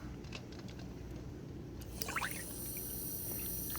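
Water pours into a pot of eggs being readied for boiling, a brief splashing trickle that rises out of a quiet kitchen background and fades after a moment.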